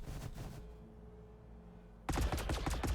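Overwatch units open fire in the Warhammer 40k Battlesector strategy game: a dense burst of rapid gunshot volleys erupts loudly after a low rumbling lull, sustained crackling shots to the end.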